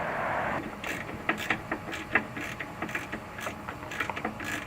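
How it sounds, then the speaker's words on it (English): A ratchet wrench works the lower end link bolt on a Pontiac GTO during a coilover install, giving quick runs of metallic clicking in short, uneven bursts against a faint background hum. "The first thing we're going to do is remove the lower bolt from the end link on both sides."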